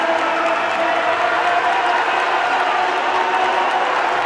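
A large stadium crowd at an athletics race keeps up steady applause and cheering, a dense even roar of clapping from far and wide with no break.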